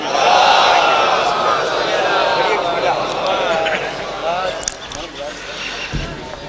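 A large congregation at a majlis gathering in Jalalpur chants salawat loudly in unison, swelling voices rising together and slowly fading, with a few sharp shouts near the end.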